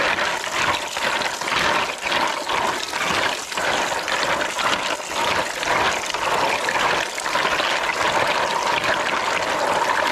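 Freshly caught creatures washed with water in a basin, steady splashing and sloshing with pouring and trickling water, close, continuous and fairly loud, with no talk.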